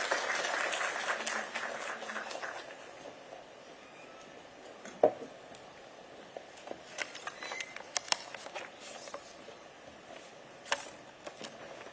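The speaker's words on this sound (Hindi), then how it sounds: "जोरदार तालियों से स्वागत कीजिएगा।" Audience applause welcoming the governor at an official event at Raj Bhavan, Dehradun, a soft, distant wash of clapping that fades after a few seconds, followed by scattered single claps and faint room noise.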